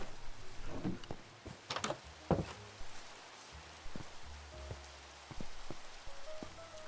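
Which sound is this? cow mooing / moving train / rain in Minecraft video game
rain in Minecraft video game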